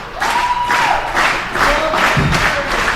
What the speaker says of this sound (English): they can't over all the noise from this crowd